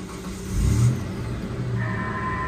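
A car engine idles and revs briefly, a close, steady low rumble with a short swell of revving near the start.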